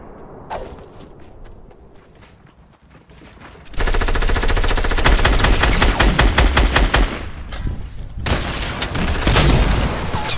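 Gunfire in the Fortnite video game: sparse single shots at first, then dense rapid bursts of automatic fire with booming hits, loud and close, with no talk over it.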